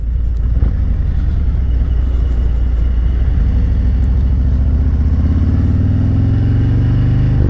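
A 2021 Harley-Davidson Road Glide Special with a stage 2 114 engine rumbles loud and close while riding, a deep steady V-twin throb whose pitch rises gradually as it accelerates.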